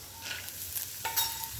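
Chana dal and peanuts fry in a pan with mustard seeds for a Karnataka methi huli rice, giving a soft, steady sizzle with faint stirring scrapes; quiet and close, no talk.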